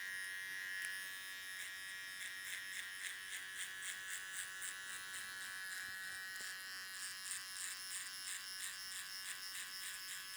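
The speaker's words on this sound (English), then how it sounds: "doing all this work with the trimmer" An electric hair trimmer buzzes continuously while cutting a fade haircut, a bright, steady electric drone with a light pulsing flutter as the blade moves through hair, close and unaccompanied by talk.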